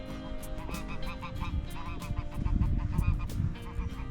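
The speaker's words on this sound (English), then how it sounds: "A few geese over there." Geese honk in a scattered, overlapping chorus beside a lake among cork and olive trees, moderately near and continuous, with a low croaking rumble underneath.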